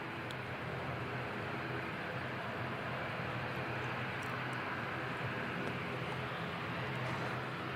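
An Airbus A320neo, flight NZ262 arriving from Adelaide, rumbles at Christchurch Airport as a steady, broad roar of jet engine noise, fairly distant and even throughout with no voices.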